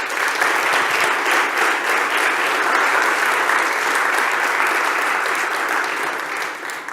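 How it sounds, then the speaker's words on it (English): Summit audience clapping in a continuous, even burst of applause, loud and close, fading a little in the final second. "let's give her another round of applause"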